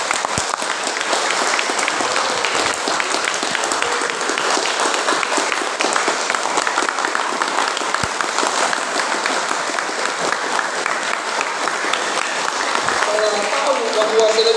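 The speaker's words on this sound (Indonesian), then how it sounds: "Beri tepuk tangan dulu, aduh." A youth church gathering breaks into long, loud applause, a dense continuous roar of many clapping hands with scattered voices mixed in, sustained for well over ten seconds.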